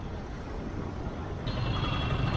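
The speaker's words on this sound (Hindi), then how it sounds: "यार मुंबई की ये ट्रैफिक हमेशा ऐसे ही परेशान करती है यार" Steady, dense road traffic on a Mumbai street, a continuous low rumble of engines with a brighter hiss that swells in the second half, with no voices.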